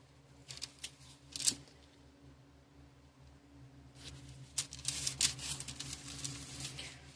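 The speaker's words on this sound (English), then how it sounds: "So let's cut into our beautiful loaf of bread here." A knife cutting into a loaf of apple pie bread, with quiet crackly crust crunches and sawing scrapes in short bursts, a gap in the middle, then a longer run of cutting, no talking.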